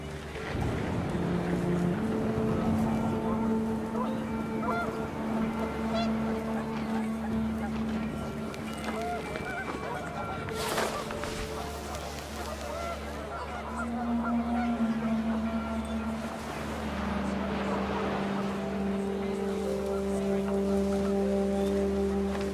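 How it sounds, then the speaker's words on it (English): Panicked geese honk in the video game What Remains of Edith Finch, their calls rising over steady gusting wind and a low sustained drone, with bursts of honking scattered through the scene. "The wind picked up, and panicked geese appeared and quickly went."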